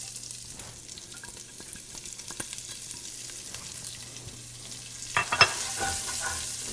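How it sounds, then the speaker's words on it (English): Chopped onion sizzling in a pot for a sausage soup, with a steady frying crackle, light stirring clicks and a louder burst of sizzle and scraping toward the end. "Now I'm going to add in my chopped onion."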